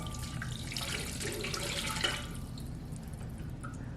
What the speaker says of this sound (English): Also, the Ankarsrum says to pour the liquid in first,